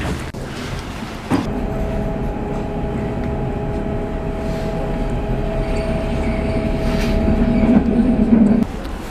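A train rumbles steadily along the rails in Germany with a low hum and faint clacking, growing slightly louder with some squealing toward the end.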